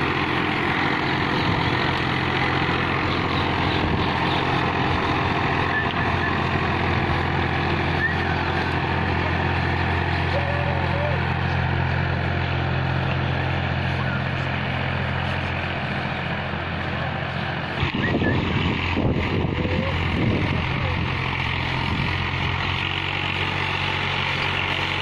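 A TAFE 30 DI tractor of about 30 HP drags a 14-disc harrow across a field, its diesel engine droning steadily and fairly close throughout, with a brief clatter of the implement near the end.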